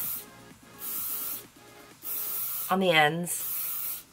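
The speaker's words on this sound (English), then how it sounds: "I use L'Oreal Elnett Satin Hairspray" Brief bursts of L'Oreal Elnett Satin hairspray hissing, repeated several times in short pulses, with someone talking briefly over them.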